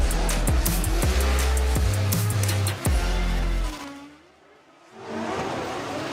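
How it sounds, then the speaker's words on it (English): A drift car warms its tyres at a Driftmasters round in Finland. The engine revs loudly and repeatedly with sharp bangs, then drops away to a brief lull before the roar picks up again. "Warming tyres right now"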